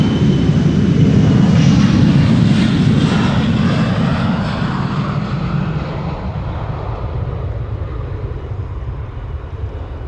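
A KLM passenger jet departing Amsterdam Schiphol for Milan gives a loud, deep engine roar that is strongest at the start and gradually recedes into a steady fading rumble.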